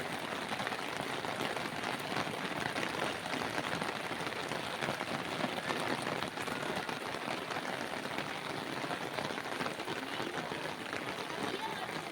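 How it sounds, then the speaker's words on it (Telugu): Heavy rain pours down in Hyderabad, flooding colonies and filling a bridge at Beeramguda, a dense, steady roaring hiss of downpour that stays loud and unbroken throughout. "హైదరాబాద్లో కురుస్తున్న భారీ వర్షానికి హైదరాబాద్ అతలకుతలమవుతుంది"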